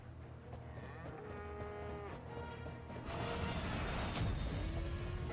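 A buffalo in the Final Fantasy XIV video game moos loudly in a long, sustained low bellow, rising in intensity toward the end, with no talk over it.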